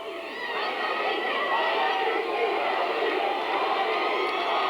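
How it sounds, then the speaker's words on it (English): A pro boxing crowd cheers for its champion during a women's bout, a dense, steady roar of many voices that fills the whole stretch at a fairly loud level. "The crowd is on fire now for their champion, Holly Holm."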